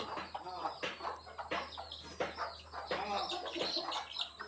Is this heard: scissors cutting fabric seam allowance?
no